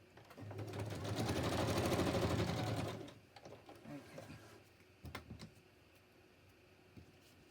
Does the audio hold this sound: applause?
no